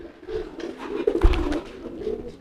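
A male pigeon courting a female coos up close in low, throaty rolling phrases that rise and fall, with light rustling around it.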